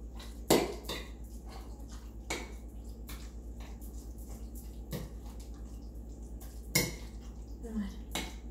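Cream cheese and tuna spread being stirred in a bowl, with a handful of sharp spoon clinks against the dish spaced irregularly over soft, quiet mixing.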